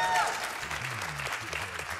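Audience at an Awesome Games Done Quick 2019 speedrun event, during a Warcraft III run, bursting into applause and cheers that fill the short moment, loud and steady with a dense crowd wash.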